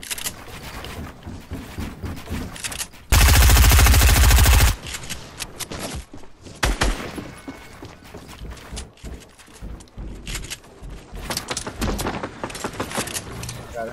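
Video game gunfire, with a long, dense burst of rapid automatic fire standing out loudly amid scattered shots, clicks and other game sounds.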